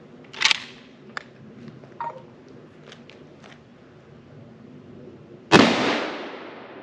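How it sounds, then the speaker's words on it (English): A Winchester Model 70 rifle in .30-06 Springfield fires one loud, sharp shot near the end, with a decaying tail. It follows several seconds of quiet handling clicks and taps, and no one talks. "I'm gonna pick the rifle up and take the shots."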